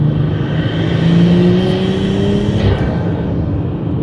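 BMW M340i engine, loud and continuous, running steadily with smooth pitch shifts through downshifts and no talk over it.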